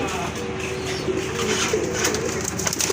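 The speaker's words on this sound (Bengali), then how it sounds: "বড় সাইজের একটা কবুতর" A large pigeon coos softly in a low, rolling rhythm under faint background noise, with a few brief chirps from other birds nearby.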